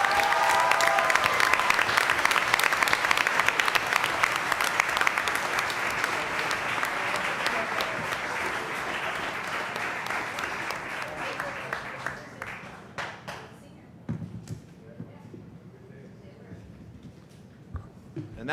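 A school board meeting audience applauds retiring district staff with loud, dense clapping that gradually thins out and fades into a few scattered claps.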